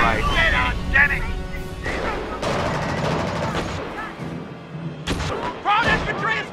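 Battlefield gunfire from the Company of Heroes video game, Normandy campaign, with repeated shots and bursts crackling through a dense war-game soundscape, mixed under shouted soldier voice lines.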